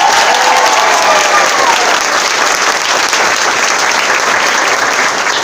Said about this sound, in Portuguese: Então essa salva de palmas é para vocês.